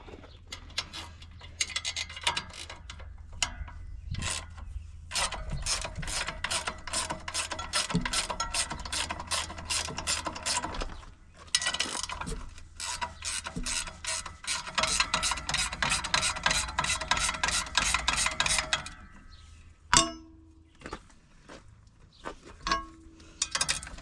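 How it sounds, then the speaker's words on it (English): A planter's squeeze pump is taken apart by hand with a tool, giving long runs of rapid, steady ratcheting clicks and mechanical rattles that pause briefly and end in a single sharp knock, with no talking. "the very last thing I do once it's all said and done is disassemble squeeze pump."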